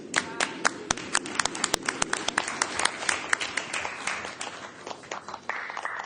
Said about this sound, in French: Il faut vous applaudir.